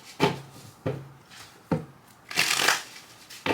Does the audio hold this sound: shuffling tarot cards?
yes